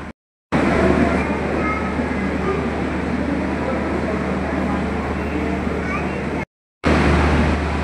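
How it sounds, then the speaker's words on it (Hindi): The Tejas Rajdhani Express pulls into a platform at Mumbai Central station, a loud, steady broadband rumble of rolling wheels and carriages close by, broken briefly by two short gaps. "आपण बघत आहात तेजस राजधानी एक्सप्रेस मुंबई सेंट्रलला प्लॅटफॉर्मला आलेली आहे"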